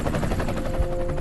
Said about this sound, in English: We went up in the helicopter